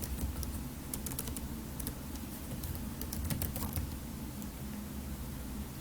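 Typing on a computer keyboard while entering a chart title in an Excel spreadsheet, a steady stream of faint, quick key clicks over a low background hum, with no talking.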